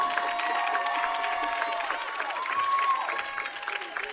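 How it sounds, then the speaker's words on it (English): Audience applause and cheering at a high school football senior night honoring the Hector High School band, a steady wash of crowd clapping with scattered whistles and voices, fairly distant and continuous throughout. "How about a round of applause for your Hector High School"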